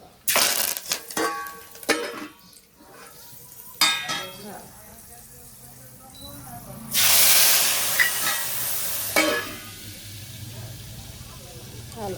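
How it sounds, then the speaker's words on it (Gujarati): A whole sprig of curry leaves hits hot oil for a dal tempering, bursting into a loud, hissing sizzle for about two seconds amid scattered clinks of utensils, with talking heard earlier in the clip. "ગરમ ઉતારી લઈ મીઠા લીમડાના પાનની આપણે આખી ડાળ નાખી દઈશું"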